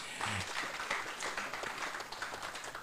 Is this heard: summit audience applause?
yes